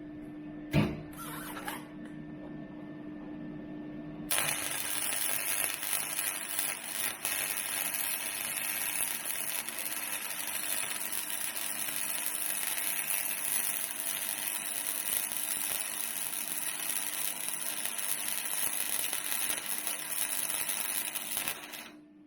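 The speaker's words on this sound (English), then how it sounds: "I'm just going to run a bead down the side and we'll see what it looks like" A CIGWELD 135 MIG welder runs a bead along flat bar with a loud, steady crackling hiss that starts after a brief pause of clicks and holds near and continuous for about twenty seconds, with no voices.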